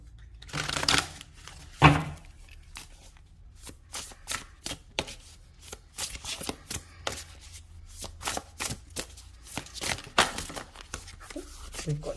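A deck of tarot cards is shuffled by hand in repeated quick bursts of riffling and flicking, close and fairly quiet, with short pauses between bursts.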